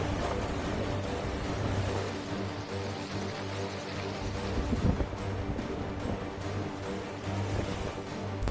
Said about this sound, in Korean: 버티기 힘들 정도로 강한 바람이 불고 있습니다.